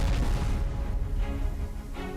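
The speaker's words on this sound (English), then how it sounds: "I heard a lot of explosions." Explosions in a video game, a dense low rumbling roar with several heavy overlapping booms, loud and continuous across the short stretch.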